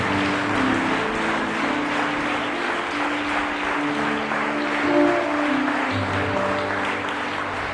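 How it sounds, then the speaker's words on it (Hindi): Loud congregational clapping in a church praise moment for Jesus, a thick, sustained patter of many hands over steady musical tones, holding at an even level throughout. "जोरदार तालियां यीशु के लिए।"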